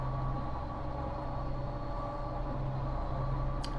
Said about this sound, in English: I'm in this K100 now. It's a lovely truck, that. It's got a lovely sound to it.